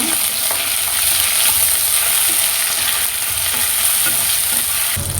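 Tomatoes sauté in a pan for Bombay chutney, a steady close sizzle of frying with repeated stirring and scraping of a spoon against the pan throughout, with no voices.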